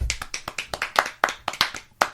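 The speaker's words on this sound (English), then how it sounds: "I think I deserve at least a round of applause from the three of you." A small studio audience of three gives a brief round of applause, a quick scatter of sharp claps spread over about two seconds, close and fairly quiet.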